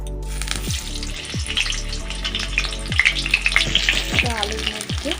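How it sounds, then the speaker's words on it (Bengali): Cut potatoes fry in hot oil for chicken fried rice, a steady close sizzle broken by a few scraping stirs of a utensil against the pan, with no one talking. "আলুর মধ্যে একটু লবণ আর হলুদ দিয়ে আলুটা ভেজে নেব।"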